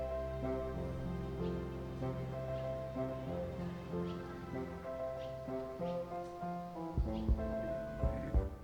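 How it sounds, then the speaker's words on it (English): Low-health heartbeat in the video game Wytchwood, a faint pair of low thumps near the end beneath a sustained, melodic game music bed. "I was wondering why I was hearing a heartbeat in my ears."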